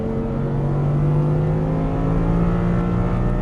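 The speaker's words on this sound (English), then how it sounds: "squeeze that throttle. Accelerate out to the left." An Audi R8 V10 pulls hard out of a corner on a racetrack, its engine a steady, loud, close drone whose pitch climbs slowly as it accelerates, with no talk over it.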